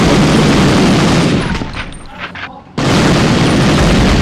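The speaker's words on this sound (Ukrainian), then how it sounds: "Кулі розлітаються всі сторони" Gunfire and explosions from a video game, loud and dense throughout, with a quieter dip in the middle before the heavy barrage returns at full force.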